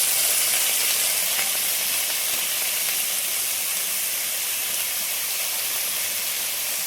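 Ridge gourd and potatoes fry in hot oil in a pan, giving a steady, close, bright sizzle and hiss throughout with no talk.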